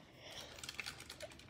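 Quiet typing on a Ducky One 2 Mini mechanical keyboard with red linear switches, a soft, steady run of light clicks and taps at close range with no talking.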